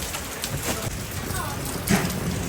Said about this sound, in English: Today we are in Hanoi Weekend Market and today it's raining.